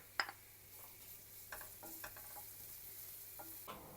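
A soft, steady sizzle of garlic frying golden in a little oil in a pan, with occasional scrapes and taps of stirring up close.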